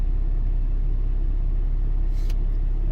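A 2008 Mercedes-Benz GL320 CDI diesel engine idles in neutral, giving a steady, continuous low rumble close by with no talk, and a brief faint hiss near the end.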